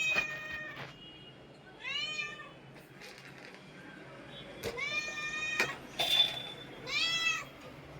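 A house cat meows for food indoors, with three distinct drawn-out meows spaced a few seconds apart, fairly close and clear over a quiet background with faint voices.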